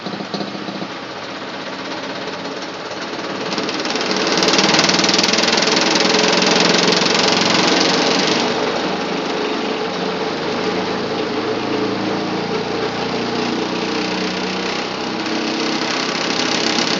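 A Maytag A50 washing machine ramps up into its spin cycle, a steady broadband mechanical roar and rattle that swells louder after a few seconds and then holds a constant loud drone with no talking.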